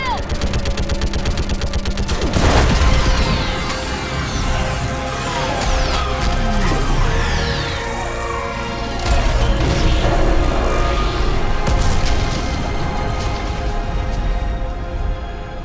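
Sustained gunfire and heavy blasts during an orbital strike on a Reaper in Mass Effect 3, with dense rapid shots, a big impact boom and sweeping energy sounds, loud and continuous with shouted voices mixed in.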